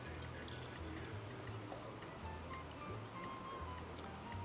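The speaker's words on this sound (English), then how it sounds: "Pour that into my mixing cup." Automotive paint for a C5 Corvette respray poured into a mixing cup, a quiet steady liquid trickle and splash running throughout at very low level, with a low hum beneath.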